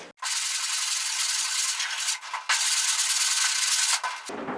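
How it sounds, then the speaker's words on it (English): 80-grit sandpaper rubs briskly over a brushed-on Raptor Liner bed-liner coating in long, steady strokes, loud and close, broken by a few short pauses. "I just want to kind of smooth this out and take the paintbrush marks out of there, and I'm going to use 80 grit to do that"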